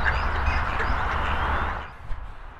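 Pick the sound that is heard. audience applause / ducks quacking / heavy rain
ducks quacking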